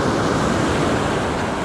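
Ocean surf breaking and washing up a beach during surf fishing with sand crab bait, a steady loud broadband roar filling the whole stretch with no talking.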